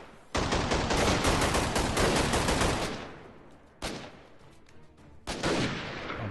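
Rapid automatic gunfire in a video game hits a fence, with a long loud burst followed by two shorter bursts separated by quieter gaps, close and without talk.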